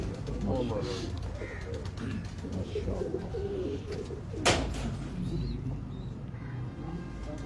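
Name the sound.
pigeons cooing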